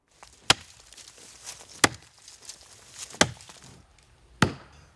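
Timber is chopped during illegal tree felling in Casamance, Senegal, with four sharp, distinct axe blows roughly one and a half seconds apart, fairly distant and faint over quiet outdoor background.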